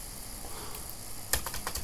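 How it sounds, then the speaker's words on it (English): Computer keyboard typing: a quiet start, then a late run of sharp, rapid key taps close to the microphone, heard alone without speech. "Should hopefully be able to type"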